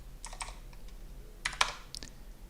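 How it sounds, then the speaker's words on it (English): Quick bursts of keystrokes on an English computer keyboard while entering Japanese hiragana, close and crisp clicks in small irregular clusters with no talk. "So time to type that in."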